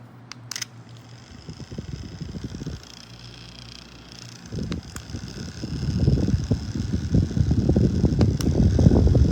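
A JISULIFE handheld fan with a built-in 4500 mAh power bank whirs close by. Its buzzing rattle starts faint, then grows louder and rougher in the second half, with a few sharp clicks early on.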